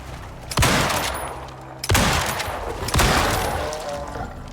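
Gunshots fired at a jaguar in the open-world survival game Prometheus: three loud, sharp reports spaced about a second apart, each trailing off in a reverberant decay, with no talk.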